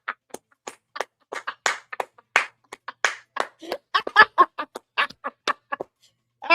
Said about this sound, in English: Y'all, let's give Lord Expectations a hand clap of praise